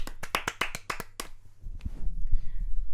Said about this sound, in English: we'll just give Wood a round of applause.